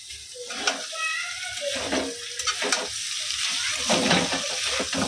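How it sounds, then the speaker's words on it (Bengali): Potatoes fry in a pan for a home dinner alongside flatbread, giving a steady close sizzle with scraping stirs and a few clinks, no talk over it. "এদিকে হচ্ছে আলু ভাজা বসিয়েছি।"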